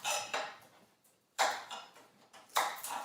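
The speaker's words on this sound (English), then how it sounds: "I'm going to just get this garlic chopped" A knife chops garlic on a board in a few sharp, separated strikes with short gaps between them, close and fairly quiet, with no talking.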